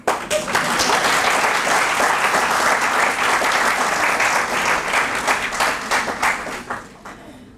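Loud, full audience applause at a lecture, a thick continuous roll of clapping from a large crowd that holds steady for several seconds before tapering off at the end.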